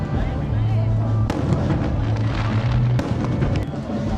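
Fireworks at a small Japanese summer festival pop and crackle in the distance, with two sharper bangs standing out, over a steady crowd murmur and talk nearby.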